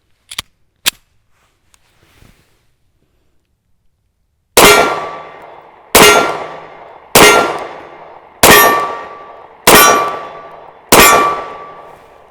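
Rounds being loaded into a Kahr CM9 9mm pistol magazine: a couple of faint early ticks, then six loud, evenly spaced metallic clacks with short ringing decays, close up and with no talking.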